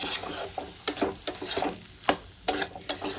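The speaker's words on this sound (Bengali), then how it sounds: "আমি এবার ভালো করে কষাতে থাকবো।" Potato and capsicum curry sautéed in a pan, with repeated stirring scrapes and clinks over a soft continuous sizzle, close and moderately loud, with no talking.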